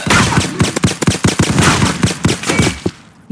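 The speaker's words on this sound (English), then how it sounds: "I got the model 187, which is the kind of like a Winchester gun" Shotgun fire in the Roblox video game, a Winchester-style Model 1887, heard as a dense burst of loud, rapid gunshots that almost overlap across a few seconds.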